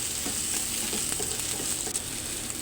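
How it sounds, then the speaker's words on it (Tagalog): Minced garlic and onion sautéing in a hot pan for chicken liver adobo, a steady close sizzle with light stirring scrapes, continuous and fairly quiet, no one talking. "Magisa na tayo ng ating garlic mince, onion mince,"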